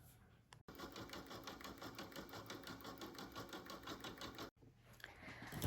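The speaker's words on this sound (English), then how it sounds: "take it to the machine and stitch the final stitch for hoop number 1, which is a bean stitch that will go around the ears" An embroidery machine stitches a bean stitch around the ears of an in-the-hoop stuffed bear, a steady rapid rhythmic clatter, close and unbroken for several seconds, stopping briefly at the start and near the end.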